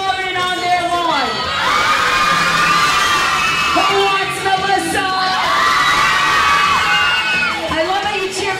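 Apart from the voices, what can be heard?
crowd cheering for twins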